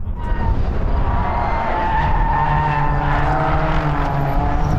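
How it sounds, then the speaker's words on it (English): Tyres squeal through corners over a loud, steady roar of racing engines, with sustained high-pitched screeching layered on the continuous mechanical drone, during a Suzuki Swift Cup race at BalatonPark. "Listen how the tyres squeal through the corners."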